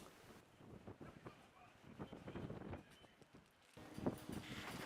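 Wind gusting by the sea at Padstow, Cornwall, a low rushing buffet against the microphone that swells and eases over a few seconds, with faint surf-like hiss behind it.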